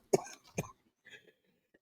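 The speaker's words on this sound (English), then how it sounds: "ooh, excuse me, I had a coughing fit." A brief coughing fit from an adult, two harsh close coughs followed by a softer throat-clearing rasp, heard alone without talk.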